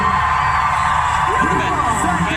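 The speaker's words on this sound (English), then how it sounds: "We're gonna scream so loud." A stadium crowd at Singapore's National Day Parade screams loudly on cue, a dense sustained roar of voices with whoops and yells rising over it, close and overwhelming.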